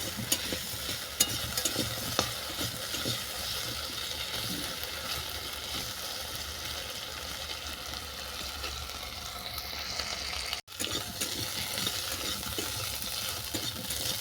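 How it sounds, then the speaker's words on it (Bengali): Elephant apple (chalta) pieces frying in a pan, a continuous loud sizzle with stirring scrapes, broken by a single brief cut near the end; no voices. "লাল লাল করে ভেজে নিচ্ছি"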